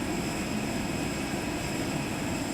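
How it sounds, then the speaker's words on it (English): A Boeing 747-200 at Madeira Airport gives a continuous broadband engine roar, loud and steady without a break, with no talk over it. "we have here a video of a 747 at Madeira"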